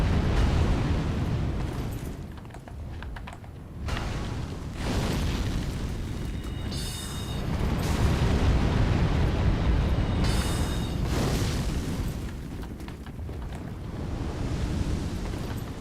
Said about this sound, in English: Oh, it's a fire spray, okay, sure.